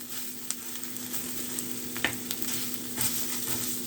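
Breakfast pork sausage sizzles steadily in a hot pan while being smashed into a patty, a close, even frying hiss broken by a few faint spatula taps and scrapes.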